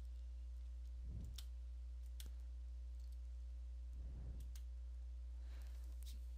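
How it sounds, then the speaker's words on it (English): Isolated key presses on a computer keyboard during a Windows repair, including hitting Enter, heard as faint sparse clicks spaced seconds apart over a constant low hum. "I'm going to hit enter on the keyboard."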